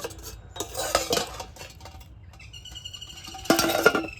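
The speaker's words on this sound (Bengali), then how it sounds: "এবারে চাপাটা এইভাবে খুলে নেব" Metal clinks and clatter as the lid comes off a pot of lemon peels boiling on high heat, with scattered rattles followed by a louder burst of metallic knocking near the end.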